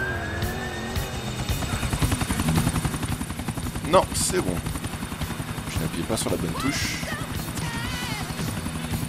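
A helicopter lifts off in the video game GTA IV on PC, its rotor chopping in a steady loud pulse through the clip while someone speaks French over it, with a brief sharp bang midway.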